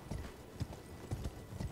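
A horse's hooves clip-clop in an Elden Ring game scene, a faint, uneven series of soft thuds heard for under two seconds.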